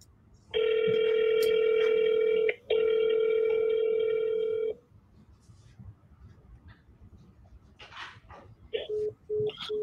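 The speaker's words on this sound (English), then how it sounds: "It sounded like a house phone." A house phone rings in one long, steady electronic tone with a brief break partway through, then stops, leaving a quieter room with a few short voice-like sounds afterward.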